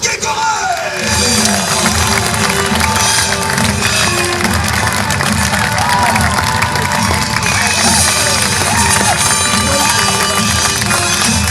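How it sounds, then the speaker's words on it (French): A large outdoor show audience claps and cheers for William Frederick Cody and the Indians, a loud, steady wash of applause with shouts and music-like tones running through it. "Des applaudissements également pour William Frédéric Cody et les Indiens d'Hockey Choral."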